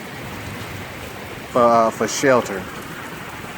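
Heavy rain and golf-ball-size hail pour down steadily outdoors during a tornado in Boley, Oklahoma, a dense continuous roar, while someone speaks briefly in the middle.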